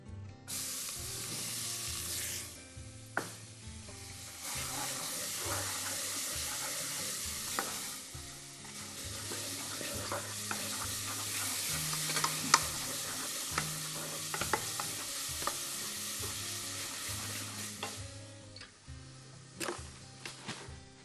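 Onion frying in butter with cloves in a pan for zucchini soup, a continuous soft sizzle with repeated scraping stirs and occasional utensil knocks, close and steady with no talking.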